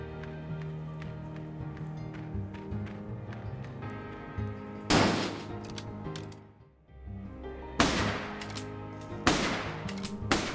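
Gunfire from a ranged weapon in the video game Legends of Aethereus, several loud sharp shots in irregular bursts over game music and effects.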